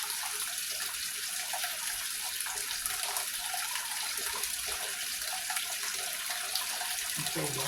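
Water runs steadily from a tap into a cooking pot for oxtails, a continuous faint hiss and splash with no clear breaks.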